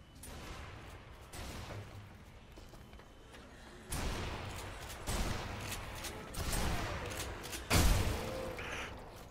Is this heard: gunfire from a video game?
yes